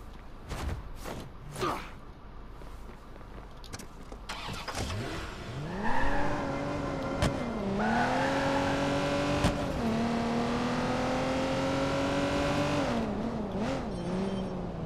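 A car engine in Watch Dogs 2 starts up after some clatter, then revs and drives with a rising, steady mid-pitched drone that swells and holds loudly for the rest of the stretch.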